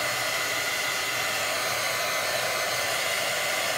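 A hair dryer blows steadily and loudly at close range while drying gesso on a piece of artwork, a constant airy whir with no breaks and no talking.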